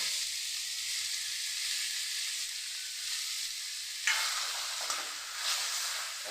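Poppy seeds are stirred into bottle gourd greens and potato in a pan, under a strong, continuous close sizzle, with a scrape and clink of the utensil near the end.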